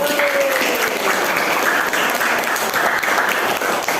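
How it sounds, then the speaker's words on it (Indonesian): Classroom applause from students at the close of an Indonesian lesson, a dense, steady clatter of many hands filling the room at even loudness throughout. "Tepuk tangan untuk kita semua pada hari ini."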